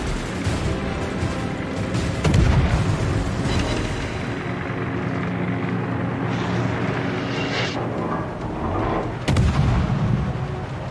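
Heavy booming cannon salvos from a warship in a naval battle video game, with two loud blasts standing out over a continuous rumbling battle soundscape.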